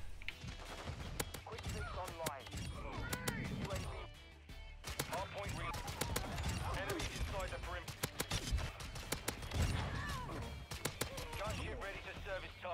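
Rapid pistol gunfire from the X12 starter pistol in Modern Warfare 2, sharp shots cracking in quick bursts throughout, mixed with game effects and a voice talking over them.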